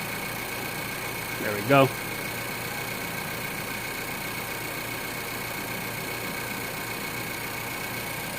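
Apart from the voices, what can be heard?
Nissan Pulsar 1.2 DIG-T engine idling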